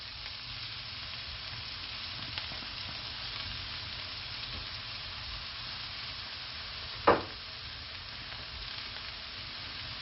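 Finely chopped onion fries gently in oil in a pan, giving a soft continuous sizzle close by, with one sharp tap of a utensil about two-thirds of the way through.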